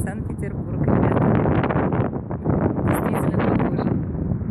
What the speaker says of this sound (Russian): Сейчас я на набережной, может быть, очень сильный ветер.